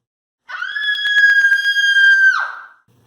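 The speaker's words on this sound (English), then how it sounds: "a horrific and piercing scream was heard by a colleague down the hallway" A horrific, piercing scream rises from down a hallway, held steady at a high, shrill pitch for about two seconds before dropping off sharply, loud and alone with no talk.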